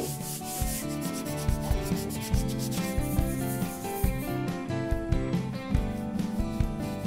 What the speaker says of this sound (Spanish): Ahora de momento vamos a trabajar la estructura, ¿eh? Lijamos bien